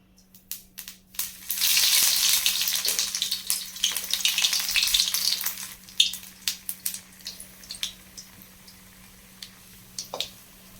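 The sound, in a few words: veg cutlet deep frying in hot oil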